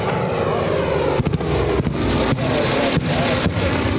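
A PB4Y warbird bomber makes a pass-through at an airshow, its piston engines producing a loud, continuous roar that swells and holds steady throughout.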